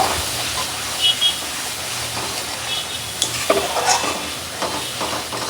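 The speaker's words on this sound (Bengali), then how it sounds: "এখন ভালো করে মশলাটা কষাবো" Salted spice paste for a rohu fish and pointed gourd curry is stir-fried in a pan. A constant hissing sizzle carries scattered scraping and stirring clicks, close and fairly loud, with no voices.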